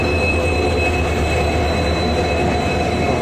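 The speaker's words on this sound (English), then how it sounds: "Okay, the train came that side." A train passes close by at Hubballi Junction, a loud, steady roar of wheels and rail noise with a faint squeal, no voices.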